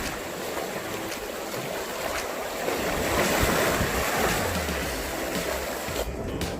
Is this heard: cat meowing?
no